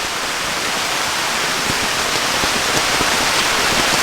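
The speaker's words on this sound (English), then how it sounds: "Just going to leave you with the sounds of torrential rain." Torrential heavy rain drums steadily on a camping tent, a dense, loud, unbroken roar with scattered sharper drop hits throughout.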